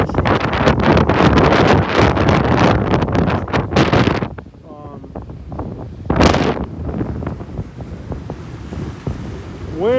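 Strong hurricane wind blowing inshore on a Florida island coast, a loud, continuous roar with gusty surges and surf-like rushing throughout.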